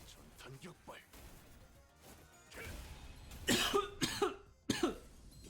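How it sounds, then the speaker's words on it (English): A streamer coughs a few times, loud and close. The sharp bursts come in a cluster partway through, after quieter murmuring and mouth sounds. "Sorry about the cough."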